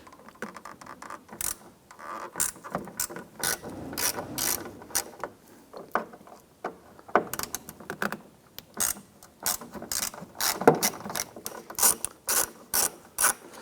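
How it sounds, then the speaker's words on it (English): A T20 Torx bit on a ratcheting tool loosens screws on a 1997-2006 Jeep Wrangler door, giving bursts of quick ratchet clicks with short pauses between them, close and moderately loud. "Go ahead and use a T20 Torx bit. I want to loosen and remove these screws."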